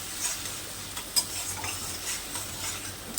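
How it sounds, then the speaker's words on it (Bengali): Spice paste for doi potol sautéed in a pan, a soft continuous sizzle broken by light spatula scrapes and an occasional tap against the pan, close and moderately quiet. "এবার ভালো করে আমি এটা কষিয়ে নিচ্ছি।"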